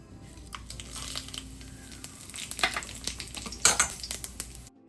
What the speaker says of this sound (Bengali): রাজমার জন্য আমি প্রথমে একটু জিরে, তেজপাতা আর শুকনো লঙ্কা দিয়েছি